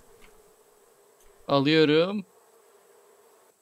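Bees buzzing in the survival video game Raft, a loud, close, wavering drone that rises for under a second and then cuts off, with faint background sounds and a brief spoken word nearby.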